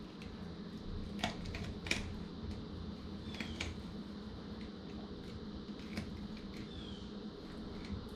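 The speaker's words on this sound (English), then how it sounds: "just running the knife right along them rib cage bones" A knife blade working along the rib cage bones of a sheepshead fish: faint, quiet clicks and small scraping ticks spaced irregularly over low steady background noise.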